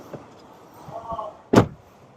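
A BMW X6 M60i rear door opens with a faint click and latch rattle followed by a single sharp, loud clunk nearby.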